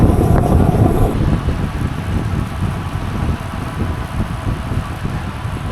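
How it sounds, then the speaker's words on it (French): Morning wind outdoors buffets the microphone in a steady low roar, loud and constant throughout, with no voices. "Il y a quand même du vent ce matin."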